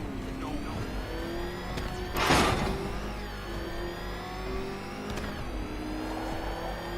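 The Batmobile from Batman: Arkham Knight races in-game, its engine droning steadily with pitch shifts and one loud whooshing burst partway through, close and alone without talk.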